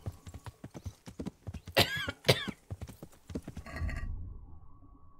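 Horse hooves clip-clop in the medieval video game Kingdom Come: Deliverance, with quick, evenly spaced close strikes. A horse snorts and whinnies partway through, and then a rumbling breath follows.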